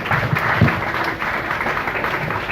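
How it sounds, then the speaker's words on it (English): Wedding guests give a warm, steady round of applause during the vows, a continuous wash of many hands clapping at close to moderate distance. "You can clap for that."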